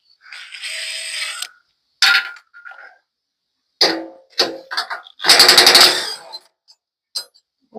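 Bolts come off the feet of a stump grinder in short bursts of loud ratcheting and rattling from a power tool, separated by silent gaps, with several clanking metallic hits close by.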